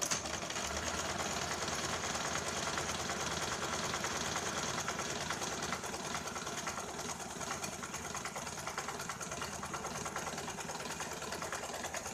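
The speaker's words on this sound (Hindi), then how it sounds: "अब यहाँ पे हम इसके ऊपर डबल सिलाई लगाते हैं।" A sewing machine runs steadily, double-stitching the lining of a blouse, a continuous fast mechanical whir with a faint engine-like hum throughout, close and alone with no talking.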